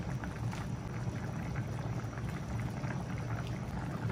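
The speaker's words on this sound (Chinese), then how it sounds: "现在我要把这个刚才炸好的豆腐皮放进去" Chicken bak kut teh, a Malaysian herbal soup, boiling steadily in a pot as fried tofu skin is added, giving a continuous low bubbling rumble with no talk.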